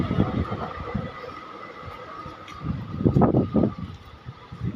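A train passes through Karad railway station with a rumbling rush of wheels and carriages, swelling louder near the end, under a faint steady tone.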